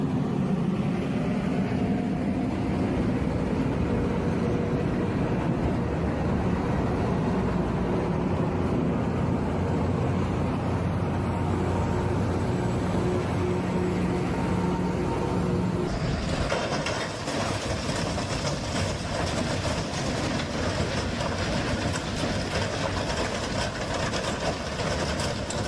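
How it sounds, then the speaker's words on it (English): A train braking hard, its wheels throwing sparks, with a continuous loud grinding rumble of rolling stock and a high metallic squeal partway through before the noise shifts to a harsher roar, with no voices. "As the train brakes hard, sparks shoot from the wheels, slowing it down in a shower of fire."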